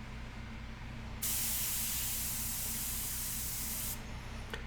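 An airbrush sprays paint in one steady, fairly close hiss lasting about three seconds, starting and stopping abruptly over a quiet low background hum.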